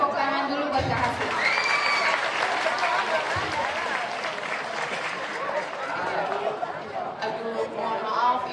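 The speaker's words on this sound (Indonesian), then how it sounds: "Iya, kasih tepuk tangan dulu buat Kak Hasin." A school edu fair crowd at SMAN 4 Kabupaten Tangerang applauds a speaker, a sustained round of clapping mixed with audience chatter and some cheering close around.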